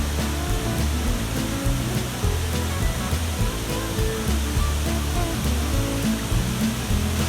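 A waterfall at Rock Island State Park roars in a dense, constant wash of rushing water, loud and unbroken, with no voices.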